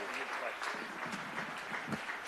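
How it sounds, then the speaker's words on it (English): A crowd applauds at a Kenyan community Jamhuri Day celebration held in Canada, moderate clapping mixed with cheers and voices throughout the short stretch, fairly quiet overall. "Special round of applause."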